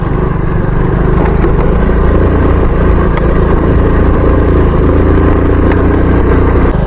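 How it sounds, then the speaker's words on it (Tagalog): Motorcycle engine straining on a steep trail climb, a loud, continuous low drone at high load with gritty mechanical texture and faint rattles, steady for the whole stretch with no talk. "Kawawa yung motor natin."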